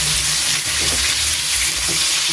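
Onion leaves hitting hot splattering cooking oil for sautéed bitter gourd, a steady loud broadband sizzle with low rumbling pops underneath, no voices.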